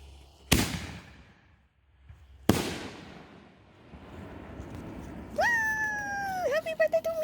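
Backyard birthday fireworks set off outdoors near a campfire: two sharp, loud bangs about two seconds apart with crackling tails, followed by a voice cheering in a high, wavering tone.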